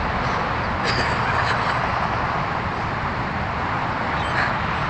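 Crows cawing around a campsite picnic table in early morning, scattered harsh calls over steady outdoor noise, with faint talk in the background.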